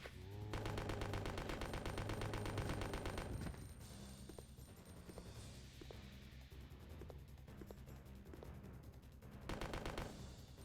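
Rapid automatic gunfire from a shooting minigame in Resident Evil: Code Veronica, a dense unbroken burst that eases to scattered shots with game effects, then swells into another sustained volley.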